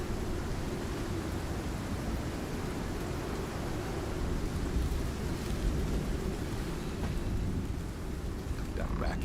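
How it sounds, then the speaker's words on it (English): A thunderstorm in the survival video game ICARUS pours heavy, dense rain with a deep, continuous low rumble of thunder, loud and steady with no talking. "storm's almost done"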